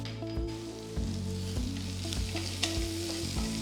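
Salted sliced onions sauté in a pan for shahi paneer, a continuous close sizzle with stirring over a steady tonal background that sounds like music, with no speech.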